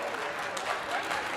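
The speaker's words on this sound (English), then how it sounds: "Let's give another round of applause for Mr. Cross Country Josh Risco." Audience applause at a high school Mr. MHS pageant, a short burst of steady crowd clapping heard close and fairly full for just over a second.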